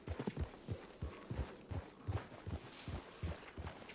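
Horse hooves in the Red Dead Redemption 2 video game, a steady rhythmic clip-clop of trotting, close and moderately loud, with no voices over it.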